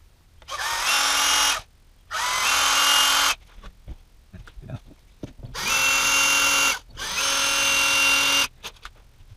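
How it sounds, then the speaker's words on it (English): Small power drill boring out the bumper of a 1/64 scale model truck, four bursts of high-pitched whirring each lasting about a second, close and loud, separated by quiet pauses with faint handling clicks. "So we'll just go ahead and drill that out quick."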